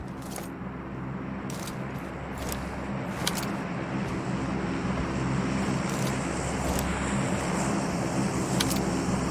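A car engine in the PUBG Mobile battle royale game drones steadily and loudly, rising slightly in intensity, while sharp clicks and pops break through it now and then.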